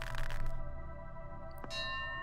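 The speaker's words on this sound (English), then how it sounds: "Bell was a bit off then." A bell rings in the video game The Lost Crown: a single bright clang near the end rises over a sustained tonal musical background, leaving a shimmering, decaying ring.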